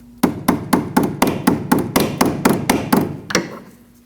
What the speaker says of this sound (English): You can tap that with a hammer so it gets seated.